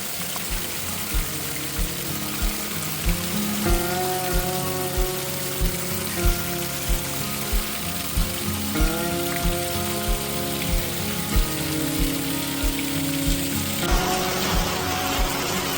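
Steady rain falls over a green, cloud-covered landscape, a close and even patter with regular soft drips and a faint melodic tone in the background.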